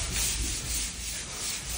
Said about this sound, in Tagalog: So dito, liha pa lang.